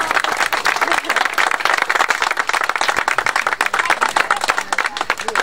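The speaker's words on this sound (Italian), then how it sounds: "un applauso, vai Andrea, vai" Audience at an outdoor plaque ceremony breaks into sustained applause, dense rapid clapping from a sizable crowd that stays loud and even throughout, with scattered voices mixed in.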